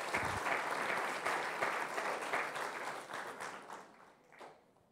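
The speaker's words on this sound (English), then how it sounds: "Give a big round of applause to me." Audience at a physics lecture gives a sustained round of clapping, loud and crowded at first, then thinning and fading away over several seconds.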